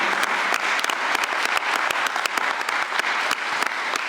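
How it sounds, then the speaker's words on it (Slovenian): Hearty audience applause at a panel discussion marking the anniversary of a military museum in Pivka, a dense continuous patter of many hands with sharper individual claps standing out, steady throughout. "En velik aplavz za to sodelovanje"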